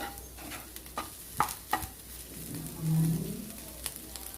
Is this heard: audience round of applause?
no